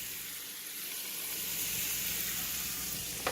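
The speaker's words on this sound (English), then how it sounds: "I got my garlic and my onions going." Garlic and onions frying in a ceramic pan, a steady close sizzle that swells slightly, with a brief clink near the end and no talking.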